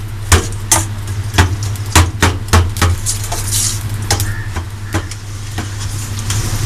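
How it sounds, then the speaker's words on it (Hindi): Garlic ginger paste frying in oil in a karahi, with repeated close metal clinks of a utensil against the pan over a steady low hum and faint sizzle. "ये थोड़ा सा लहसुन अदरक का पेस्ट ऑयल में फ्राई हो रहा है"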